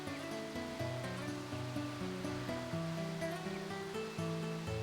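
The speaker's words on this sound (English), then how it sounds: "Now I'm doing it out of bounds, in the rain, behind a waterfall." A video game's rain and waterfall ambience hisses steadily and softly, out of bounds behind a waterfall, under a layer of sustained background music.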